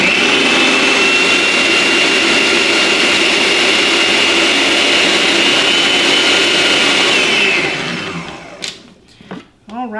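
A kitchen food processor chops onion and jalapeño for homemade salsa, its loud, steady whirring motor running for about eight seconds before winding down, followed by faint clatter.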